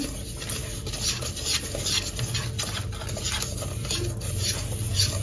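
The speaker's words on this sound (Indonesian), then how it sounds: "Aduk hingga tercampur supaya tidak bergumpal pada saat diberi cairan." Steady scraping and swishing of a spoon stirring sugar and pudding powder in a pot, continuous and close, with faint clinks against the metal.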